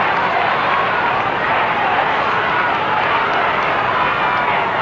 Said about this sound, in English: And you can hear the crowd calling for ball.